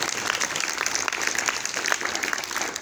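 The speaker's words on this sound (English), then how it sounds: "of course, clap for her" Children at a school cultural awareness program clap for a teacher, a steady patter of many small hands that stays fairly soft and continuous throughout.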